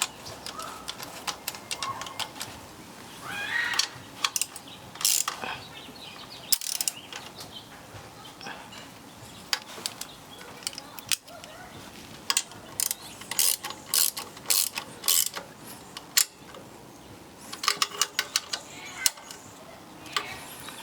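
A ratchet fitted with a Koken wobble socket works a part on a 1968 Mustang Fastback, producing bursts of quick metallic clicking strokes with pauses between them, close and fairly quiet.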